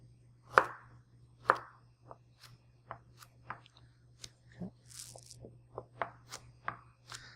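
A knife chops peeled carrots into chunks on a cutting board, about a dozen crisp, separate thuds at an uneven pace, close and clear over a faint steady hum.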